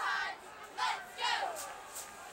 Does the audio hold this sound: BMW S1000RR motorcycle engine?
no